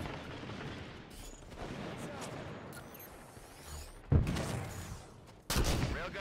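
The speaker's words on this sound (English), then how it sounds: "Taking fire in blue streets." Video-game gunfire during a fight in the blue streets after losing the blue base, with a railgun about to come online: a steady low rumble of shots under the sound, then two sharp loud bursts near the end.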